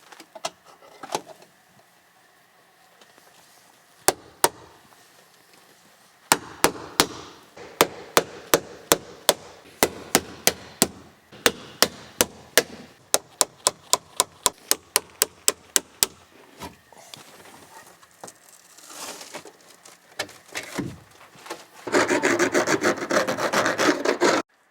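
Sheet metal on a Ram Promaster van is cut and filed along drilled holes for a window opening. Sharp, rhythmic rasping strokes arrive in quick, uneven runs, loud and close, and a denser, continuous grinding stretch closes the sequence.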